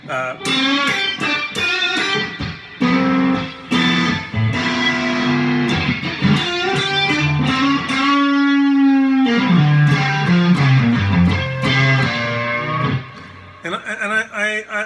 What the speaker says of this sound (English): this is just a reverb